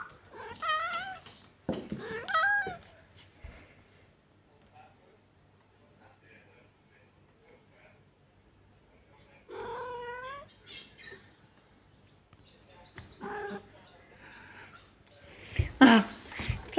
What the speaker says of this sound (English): Oh, he meowed.